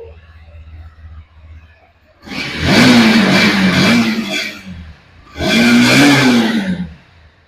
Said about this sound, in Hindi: गाड़ी को स्टार्ट करेंगे आपको साउंड सुना के दिखाएंगे इस गाड़ी का